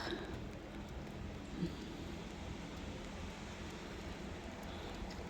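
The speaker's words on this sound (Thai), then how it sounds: "ฝนตก หิมะตก" Soft, steady rain hisses evenly on a roof in northern Slovakia, a constant wash of patter with no pauses and no voices.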